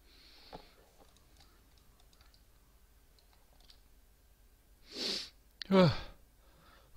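A single sharp sneeze bursts out near the end after a sharp inhale, loud and close, following a stretch of near quiet with faint keyboard clicks.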